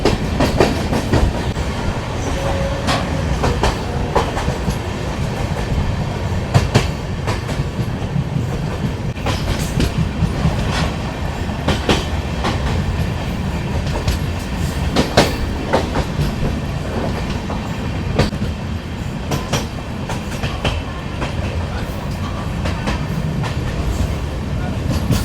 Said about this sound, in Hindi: पीछे देखो वहां वो आ रहा है बैंकर लोकोमोटिव।